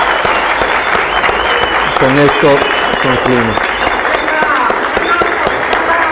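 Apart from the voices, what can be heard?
audience applause closing the debate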